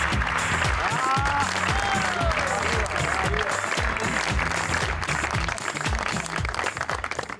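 A studio audience claps steadily to welcome a guest onto a Pakistani TV talk show, dense applause with music playing underneath that thins slightly toward the end.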